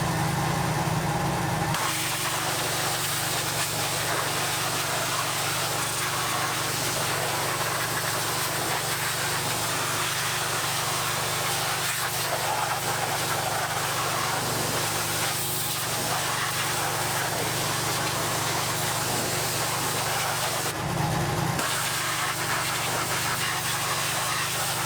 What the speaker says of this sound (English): So we're going to go ahead and pressure wash it off